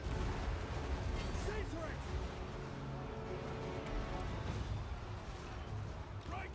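Fireball spell explosions in the Warhammer Total War video game, a dense continuous barrage of booms and crackling blasts that runs without a break. Battle noise and voices sit underneath.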